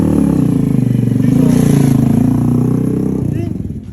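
A big bike motorcycle revs and accelerates close by with a loud, pulsing engine note that rises and then fades slightly toward the end.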